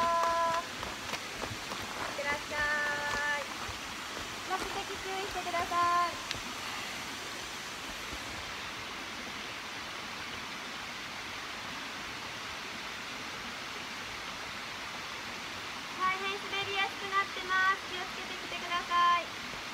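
Takimata waterfall in the Keihoku forest gives a steady, broadband rush of falling water throughout, with faint voices of passing trail runners and spectators now and then.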